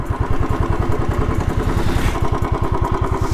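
A Royal Enfield Thunderbird motorcycle idles close by while being parked during an offroad ride, its single-cylinder engine thumping in a fast, even beat that stays loud and steady throughout.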